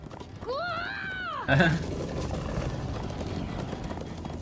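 In Minecraft: Story Mode, a horse whinnies, then hooves clatter in a quick galloping rhythm under a steady rumble of movement and background noise.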